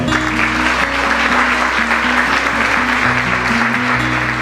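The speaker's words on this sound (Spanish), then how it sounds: "Démosles un fuerte aplauso." A church congregation applauds a married couple with loud, continuous clapping that holds steady throughout, and music plays underneath it.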